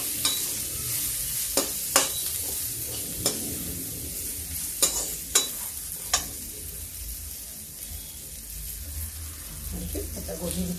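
Cabbage and peas frying in a pan with fried urad dal fritters, stirred by hand, with steady close sizzling broken by several sharp scraping clinks of a spoon against the pan.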